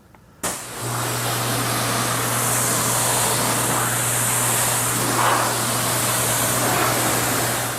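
A pressure washer rinses iron remover off a car, starting with a sharp burst and settling into a loud, steady hissing spray over a constant pump hum.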